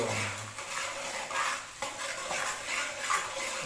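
Salted onions sizzle softly in a hot pan for a chicken fry, with repeated scraping stir strokes of a spoon against the metal, quiet and close.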